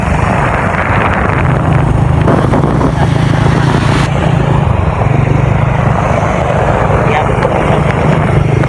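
A motorcycle engine drones steadily throughout a ride, with rushing wind noise and a constant low engine hum close by.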